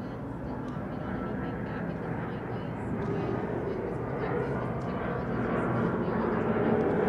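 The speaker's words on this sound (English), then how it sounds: "Let the airplane go past first." An airplane passing overhead during a police press briefing about an arrest, a broad low roar that swells steadily louder across the stretch, with no words spoken over it.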